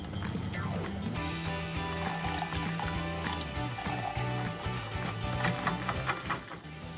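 An egg and milk mixture for honey mint chocolate chip ice cream is poured steadily through a strainer into a blue pot, making a continuous close liquid trickle with faint clinks and no talking.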